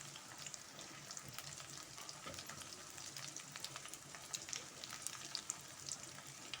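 Pulicha keerai, sorrel leaves, sautéed with shallots in a pan, giving a faint, steady sizzle with crackling pops and occasional stirring throughout, with no voices.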